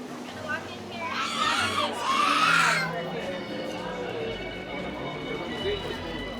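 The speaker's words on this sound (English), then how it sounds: "What would Disney be without the sounds of young children screaming?" Young children shriek and scream amid a busy crowd at Disney's Magic Kingdom during the holiday season, with a burst of high shrill cries early on over a steady murmur of park chatter.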